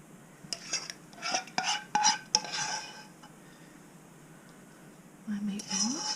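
Spoon scraping and clinking against a pan while sauce is ladled over homemade meatballs, a cluster of sharp metallic taps and scrapes early on, a quiet stretch, then a low wet rasp at the end.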